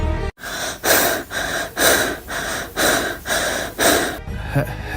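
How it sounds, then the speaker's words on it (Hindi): Heavy, rhythmic breathing very close to the microphone, about eight loud gasping breaths in a row, with no talking. "सिर्फ सांसों की आवाज, जैसे कोई रमा के फोन के बिल्कुल पास"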